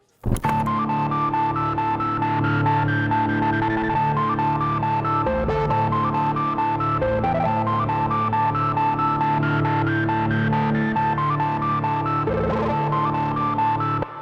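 A sustained synth tone run through Ableton Live 12's Roar saturator, thick and gritty with heavy distortion, droning steadily with a buzzy, harmonically rich texture and slight pitch movement.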